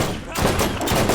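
Rapid gunfire from a Scorpio turret in the Borderlands video game, a dense burst of shots close and loud, with game sounds mixed in.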